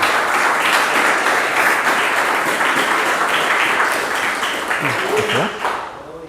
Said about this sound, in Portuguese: E as palmas glorificam o nome do Senhor